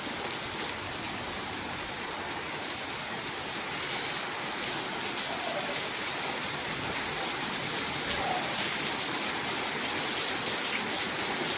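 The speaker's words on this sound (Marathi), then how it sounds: "भरपूर धुवादार असा पाऊस सुरू आहे" Heavy torrential rain pours down steadily over Varvandi village during a windy storm, a dense, unbroken wash of drops that stays loud and even from start to finish, with no voices.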